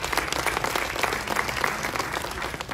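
An audience applauds steadily, dense clapping from a crowd filling the room at an even level for the whole stretch, with a faint voice underneath.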